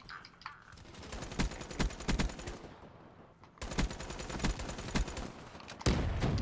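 Rapid bursts of Razorback SMG fire in a team deathmatch shooter game, clipped volleys with a brief lull in the middle before fire resumes, ending with a sharper close burst.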